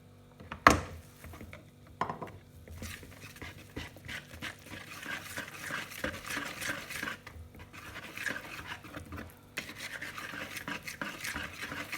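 Pancake batter made with milk is stirred in a bowl, producing continuous rhythmic swishing and rubbing with soft scrapes and a sharp knock near the start.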